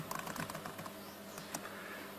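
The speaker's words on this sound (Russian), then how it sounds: "Сейчас мы пишем на английском, теперь уже на русском." Typing on a tablet's keyboard case, a quiet rapid patter of soft key taps over faint room hiss, with one slightly louder tap near the end.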